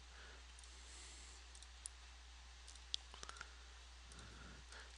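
Sparse light clicks of a computer mouse during digital poster editing, faint and scattered over a low steady hum, with a small cluster of taps near the middle.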